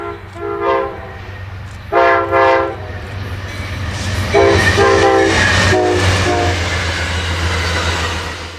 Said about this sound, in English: Train 14 leaves the mountains behind at Santa Margarita as it exits the pass